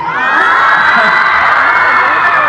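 A festival audience in Beijing cheers loudly and continuously, a dense roar of shouting and whooping voices with little break.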